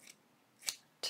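Scissors snip small pieces from a strip of paper, three quick, crisp close-up cuts in about a second against a quiet background.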